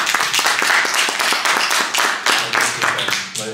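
Applause during an open council meeting in Újszentiván, Hungary: scattered clapping from a small group, fairly close and steady for a few seconds, with murmured voices underneath.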